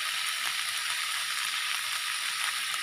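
Food sizzling steadily in a frying pan with faint stirring, a constant close hiss with no talking, while browning ingredients are mixed for a simple home-cooked dish.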